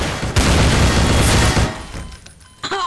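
Heavy gunfire and explosive booms in Garry's Mod during a police station raid roleplay, loud sustained bursts that fade after a couple of seconds, followed by a short sharp hit.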